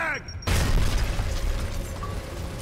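A frag grenade goes off in Gears of War Ultimate Edition on Insane difficulty: a sudden loud blast after a brief quiet moment, then a heavy rumbling tail that fades slowly.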